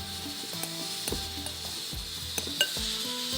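Spices being mixed in a pan with turmeric and dried mango powder, producing a faint background sizzle under repeated soft scraping and tapping strokes at an uneven rhythm, close by and without talk.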